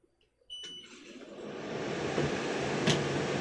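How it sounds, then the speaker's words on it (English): An air conditioner switches on with a click and beep, then settles into a steady broadband whoosh of blowing air that builds slightly and holds, close and continuous, with a second faint beep near the end. "The air conditioner is going on."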